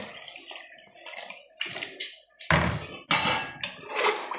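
Water is poured into a pot of rice and chicken for pulao in a kitchen in Kuwait, giving a few quiet knocks and then two loud, close splashing gushes.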